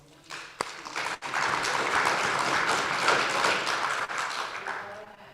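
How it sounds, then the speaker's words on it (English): A warm round of applause from seminar participants at a peer learning exchange, rising quickly after a few scattered claps into steady, full clapping that holds until the end. "let's give yourselves another warm round of applause"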